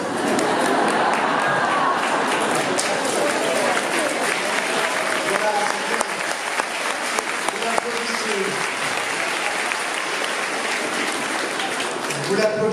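Sustained audience applause fills a conference hall at an organic products fair, dense and steady clapping from a large crowd throughout, with faint voices mixed beneath.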